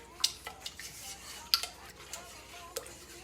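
Caramel being mixed in a pot gives a few soft scraping stirs and light metallic clinks of a utensil against the pot, quiet and close, with sparse, irregular taps.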